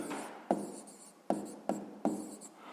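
Pen strokes scratch across paper in four quick, close bursts, each starting with a sharp tap, while someone writes out town names and population figures for a sixth-grade maths exercise; no talking.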